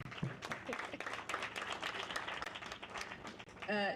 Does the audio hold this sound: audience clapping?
yes